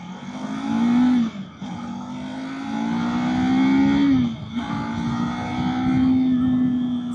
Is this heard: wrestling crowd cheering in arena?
no